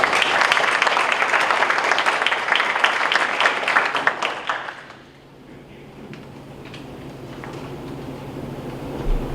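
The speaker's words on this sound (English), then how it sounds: "Let's give these ladies a round of applause." Applause from an audience at a school district board meeting, a broad, loud patter of many hands that fills the first half and then fades into quieter room noise.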